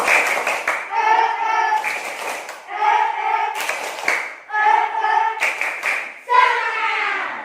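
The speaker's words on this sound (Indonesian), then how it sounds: "Ibu ingin Ratna yang memimpin tepuk semangat" A class of schoolchildren performs the rhythmic 'tepuk semangat' clapping chant, sharp bursts of unison claps alternating with children's chanting voices in a repeating pattern, loud and close in the classroom.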